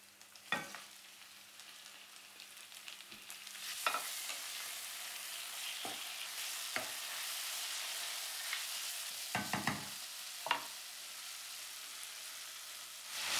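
Tomato added to softened peppers frying in a pan for a monkfish stew sauce, a quiet hiss of frying broken by several sharp stirring clacks and scrapes, fairly faint overall.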